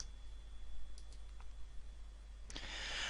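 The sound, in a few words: typing a signature name on a computer keyboard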